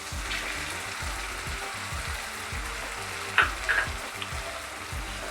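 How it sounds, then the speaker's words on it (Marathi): Chicken kheema masala sizzles steadily in a hot pan with two finely chopped tomatoes just added, a continuous close frying hiss with a few brief stirring scrapes and spatters. "आता यामध्ये मी 2 टमाटे बारीक चिरून घेतलेले ते घालत आहे"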